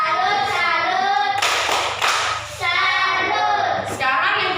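Classroom of children doing a 'tepuk salut' clapping chant, with loud bursts of collective clapping and claps mixed with chanting voices, close and energetic.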